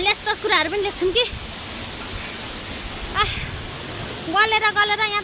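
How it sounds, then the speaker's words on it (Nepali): A small stream flows below a waterfall, making a steady broadband rush that continues under people talking at the start and end. "यहाँ तल चाहिँ यस्तो सानो खोला छ"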